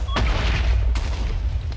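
Blocky TNT explosion in Minecraft, a loud broadband boom right after a brief click, followed by a second blast near the end of the short stretch, with dense rumbling low end throughout.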